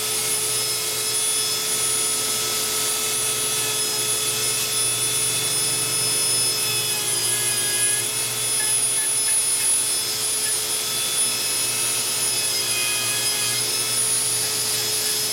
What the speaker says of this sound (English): always just be aware of where that Dremel is spinning